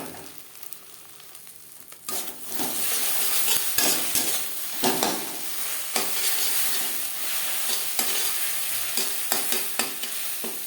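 Beaten egg stirred and frying in a little oil in a wok that was just used to fry potatoes, a steady close sizzle with repeated scraping strokes of the spoon, loudening after the first two seconds.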